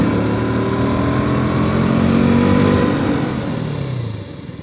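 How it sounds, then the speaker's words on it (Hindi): A sport motorcycle, a Bajaj Pulsar RS 200 or KTM RC 200, accelerates hard on an open road with a loud, steady engine drone that swells and then eases off toward the end, with no talking. "थोड़ी सी भगाते हैं पहले बाइक को।"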